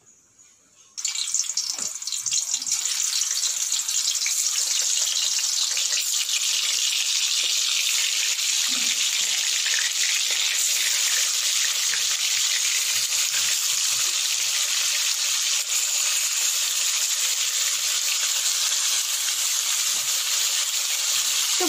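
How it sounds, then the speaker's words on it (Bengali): Small fish coated in spices sizzle steadily in hot oil, a continuous loud frying hiss that starts abruptly and holds without a break. "দেখো আমার এই যে ভাজি হচ্ছে, তোমরা এমন করে ভেজে নেবে।"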